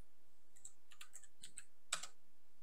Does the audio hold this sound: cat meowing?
no